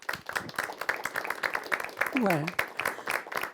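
A lecture audience keeps clapping after a philosophy class, steady mid-level applause running under a man's speech, with a brief rising tonal sound partway through.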